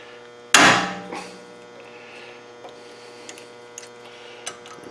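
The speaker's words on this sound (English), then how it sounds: "You want to use an impact driver, otherwise you will just merely strip these screws out" A single loud hammer strike on a manual impact driver, loosening screws on a 2012 Hyundai Sonata during front wheel bearing replacement, followed by a lighter tap and a few faint metallic ticks over a low hum.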